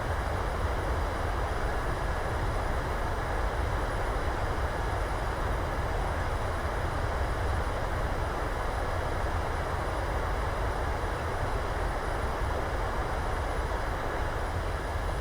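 Steady broadband roar of an airliner rolling and decelerating down a runway in a flight simulator game, engine and rumble noise continuous and even throughout, with no voices.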